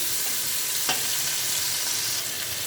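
Chopped tomatoes frying with onions in a pan, a steady, loud, broadband sizzle throughout with a brief stir or scrape partway in, close up and with no voices.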